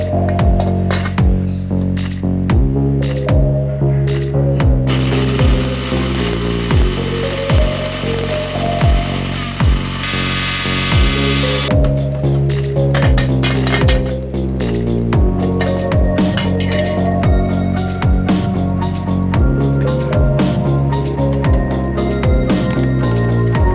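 A mixer grinder pulverizes medicinal herbs together into fine powder for a homemade cough remedy, whining in repeated pulsed bursts that spin up and wind down, with one longer continuous run in the middle.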